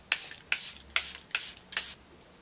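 Charlotte Tilbury Airbrush Flawless Setting Spray is misted in five quick, even spritzes about half a second apart, each a short soft hiss, close and alone.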